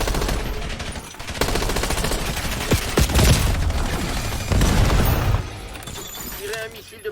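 Rapid bursts of gunfire and sharp cracking impacts from the Call of Duty Black Ops 7 beta crackle loudly and almost continuously, with shattering hits and voices speaking in the mix.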